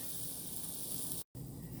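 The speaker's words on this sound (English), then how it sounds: "So the steam is really slowed down now, and I think it's probably done." Steam hisses steadily from a Dash mini waffle maker cooking keto garlic bread chaffles, a close, even, airy rush that breaks off briefly near the end.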